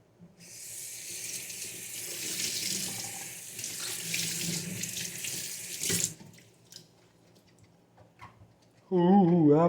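A bowl is washed under a running kitchen sink tap, with a steady rush of water for several seconds that cuts off abruptly, then a few faint clinks and a voice near the end.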